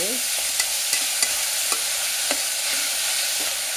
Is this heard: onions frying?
yes